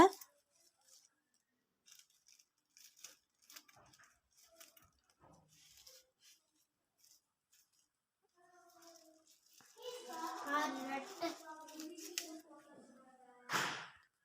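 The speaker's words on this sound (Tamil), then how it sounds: "இப்போது இந்த எல்லா பேப்பரையுமே நம்ம வந்து சிங்கிளாக கட் பண்ணி எடுத்துக்கலாம்." Scissors cut through folded plastic cover sheets, a series of faint crisp snips followed by louder crinkling and cutting near the end, with a voice heard in places.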